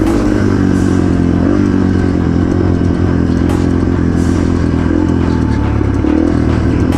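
Yamaha TTR 230 dirt bike ridden over a technical trail, its engine a steady low drone with rev changes, along with clatter and scraping from rocks and brush throughout.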